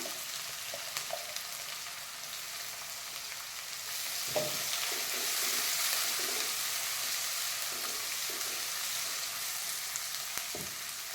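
Chopped onion frying in a pan, a continuous close hiss that swells in the middle, with a few spatula scrapes and knocks scattered through it and no talking.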